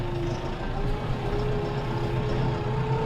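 Steady low rumble of a 2020 Case Farmall 75C tractor driving across a field, its engine droning loud and continuous with a faint tonal whine riding on top, no voices.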